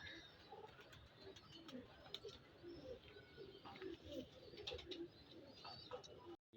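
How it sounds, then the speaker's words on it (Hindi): Pigeons in a home loft coo softly and repeatedly, low and muffled, with faint chirps and someone talking quietly at times. "ये तस्वीर वाला बड़ा कबूतर है मेरे पास"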